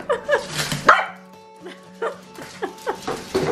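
A small, happy dog barks and yips in short bursts, close and fairly loud, with gaps between the barks and a brief whimpering note, alone without talk.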